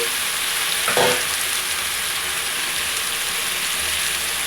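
Green chillies and cut drumsticks frying in oil, a loud, dense, steady sizzle with a brief stirring clatter near the start.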